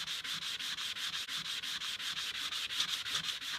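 A non-stick-safe scrubbing pad rubs an old rusty hand tool in quick, even back-and-forth strokes, a close, rhythmic rasping about five strokes per second with no voices.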